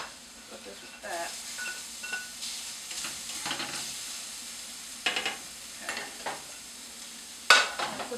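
Shrimp cooking in a skillet gives a soft, intermittent sizzle with scraping and stirring clatters and a sharp clank near the end, faint and close, under someone talking.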